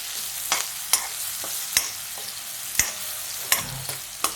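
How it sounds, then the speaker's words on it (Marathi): Onion sautés in a pan with a steady soft sizzle, and a spatula strikes the pan now and then in sharp, scattered taps, close by with no voices. "कांदा जरा लाल होतोपर्यंत परतून घ्यायचा"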